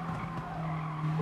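Race car tires squealing from understeer in Gran Turismo Sport, a sustained skid whine over the steady hum of the engine.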